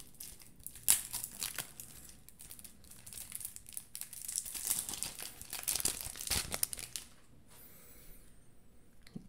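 A Pokémon Brilliant Stars card pack wrapper is torn open and handled up close, with several seconds of crinkling foil and sharp rips, ending in quieter rustling.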